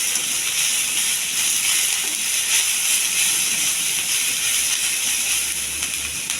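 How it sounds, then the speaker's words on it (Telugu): Amaranth leaves (thotakura) frying in a pan give off a steady, loud sizzling hiss that holds constant throughout, with faint scraping from stirring underneath. "దీన్ని మనం ఇలా మాడిపోకుండా ఫ్రై చేసుకుంటూనే ఉండాలి, కలుపుతూ ఉండాలి"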